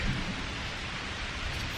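Steady rain pours over a wilderness camp during a thunderstorm, with a low rumbling roll of thunder underneath, a dense constant wash with no voices.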